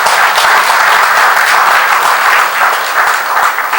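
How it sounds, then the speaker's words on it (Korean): Sustained, loud applause from an audience at the founding convention of a Seoul civic group, a dense steady wash of clapping hands lasting several seconds with no talk over it. "이것도 그냥 박수로 괜찮겠습니까?"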